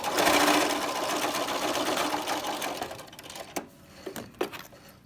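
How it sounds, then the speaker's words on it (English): Domestic sewing machine stitching a seam on a cloth face mask, loud rapid whirring stitches at first, then slowing into short stop-start bursts with quiet gaps near the end. "I'm sewing on this seam."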